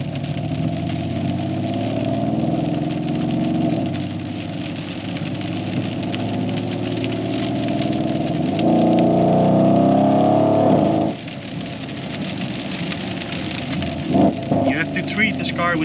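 A 650+ hp Mercedes GLE63S AMG with a custom decat exhaust drones at low revs from inside the cabin, swelling briefly before the note drops away, with people talking over it.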